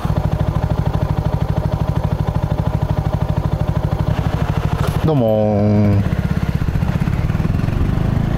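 A water-cooled Mutt DRK motorcycle idles steadily with a fairly loud, even engine pulse, and a brief throttle blip partway through; someone speaks briefly over it.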